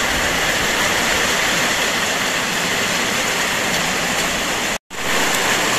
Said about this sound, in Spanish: Esto es más que una tormenta tropical